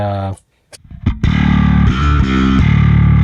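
A heavily distorted electric guitar through a Neural DSP amp plugin plays chords with a thick, saturated tone, pausing briefly before ringing out again in sustained, gritty strums.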